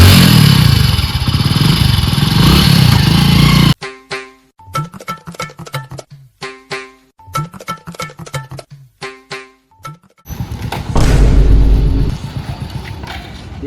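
A motorcycle rides into a man during a comedy skit: a loud roaring engine, then a run of sharp clattering knocks and bangs in quick bursts, before the engine roars up again close by.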